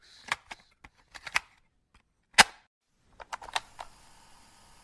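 Keyboard typing while playing Mr. Mix, an early-1990s PC typing game: scattered, close key clicks in short bursts with gaps between them, one sharper strike standing out, and no talking.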